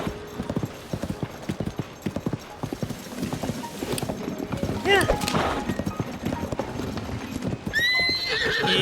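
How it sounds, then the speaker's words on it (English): A horse gallops in The Legend of Zelda: Tears of the Kingdom, dragging a load behind it. Rapid clip-clop hoofbeats run throughout, joined by a loud whinny partway through, while a person talks over the game sounds. "This horse does not turn very well, and it's probably because of the thing we're dragging."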